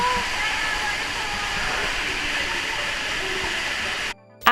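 Steady broadband rush of falling water, loud and close, holding evenly before cutting off abruptly near the end.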